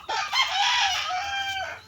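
A rooster crows in one long drawn-out call, close and loud, with chickens clucking faintly around it.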